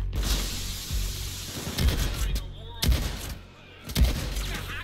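A shotgun fires in Payday 2 during a jewelry store heist, with three or four sharp booming blasts spaced about a second apart amid other game noise and a voice talking.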